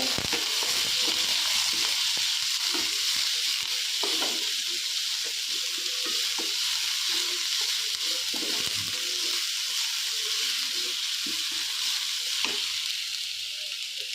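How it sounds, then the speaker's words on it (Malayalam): Onion, garlic and ginger frying in a pan, a loud continuous sizzle throughout with occasional soft scrapes of stirring underneath, no talking. "ഇത് ഞാൻ ഇളക്കി യോജിപ്പിക്കുക."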